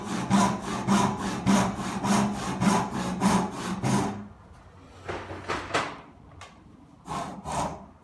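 A hand saw, its blade lubricated with candle wax, cuts wood for a half lap joint in quick, rhythmic back-and-forth strokes. The strokes are close and loud, then give way to a quieter pause and a few slower final passes.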